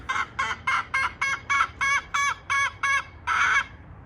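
A young Polish chicken, under two years old, gives about ten evenly spaced clucking calls, close and loud, ending in a longer strained note as it tries to crow.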